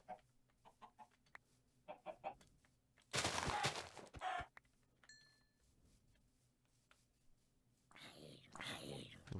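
Chickens clucking in a video game, short scattered clucks and squawks with a loud burst of flapping commotion midway, mixed with quiet voices of players chatting over them.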